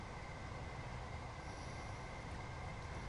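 Steady rumble and rail noise of a passenger train on the Ramsgate to London Victoria service in Train Sim World 3, continuous and moderately loud with no talk.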